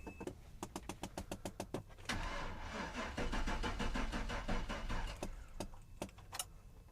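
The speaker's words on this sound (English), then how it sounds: "You can see it cranked over, it turned over, just didn't fire yet." A rapid series of clicks, then a steady mechanical whirring of a 454 engine, unstarted for months, cranking on a Ryobi P7101 18V jump starter for a few seconds without catching, followed by more scattered clicks.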